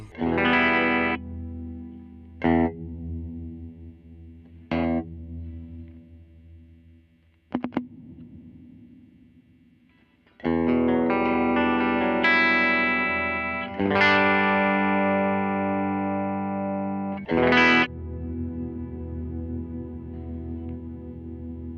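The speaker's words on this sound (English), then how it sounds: "So that reverb, it sounds like it's a very dull reverb" Electric guitar played through a dull reverb on a Line 6 Helix with the modulation switched off, heard as distorted chords and single notes that ring out, with a pause of decaying wash in the middle.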